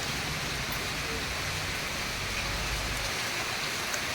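Heavy rain pours steadily over a village, a dense, even hiss of drops on surfaces with no pauses, close and enveloping throughout.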